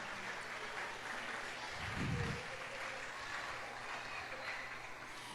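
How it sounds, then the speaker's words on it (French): Audience applause at a school end-of-cycle celebration, faint and distant, a soft continuous patter of clapping with a brief low thump near the middle. "Je vous demande d'applaudir cette dame pour moi."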